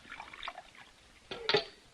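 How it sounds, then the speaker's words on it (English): Coffee poured into a cup: a brief liquid trickle, then a louder splashing pour near the end, close and short with no talking. "Pour the coffee."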